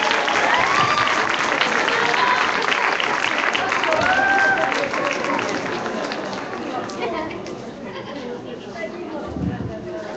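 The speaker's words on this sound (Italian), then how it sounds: "Un applauso a Vittorio Corbo, il più piccolo della compagnia" Audience at a children's theater performance of Snow White applauds steadily, a dense, loud wash of clapping with crowd murmur that gradually thins and softens toward the end.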